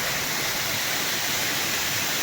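Steady rushing water pours continuously with a broad, even hiss, like a waterfall heard fairly close, no voices over it.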